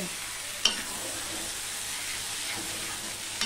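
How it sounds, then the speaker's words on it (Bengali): Prawns cook with spices and sour yogurt in a pan, a constant, even sizzle with two sharp utensil clicks against the pan. "এবার আমি চিংড়ি মাছটা দিয়েও একটুখানি মিশিয়ে কষিয়ে নেব"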